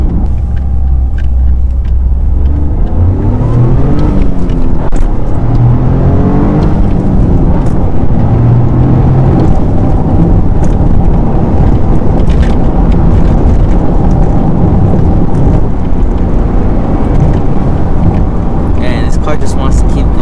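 A 2023 Toyota GR Corolla engine roars and climbs through its revs under hard acceleration, loud and close, with rising pitch sweeps as it pulls and shifts.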